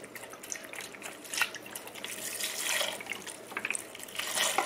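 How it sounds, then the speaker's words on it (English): Beef broth pours from a box into a soup pot holding ground beef, a soft, steady liquid splashing and gurgling that grows slightly fuller as it continues, close and fairly quiet. "I'm gonna go ahead and pour the beef broth in."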